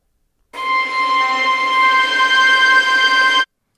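A single sustained, thin, glassy sampled violin harmonic tone held for about three seconds, cold and airy, starting and stopping abruptly.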